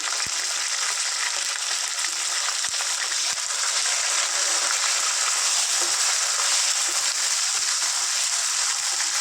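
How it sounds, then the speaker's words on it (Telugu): Around twenty green chillies sizzle steadily in hot oil in a pan, a bright continuous frying hiss with faint scattered pops and clicks and no voices. "వీటిని చక్కగా ఫ్రై చేసుకుందాం ఇందులోనే ఒక ట్వంటీ మిర్చి వేసుకుంటాను"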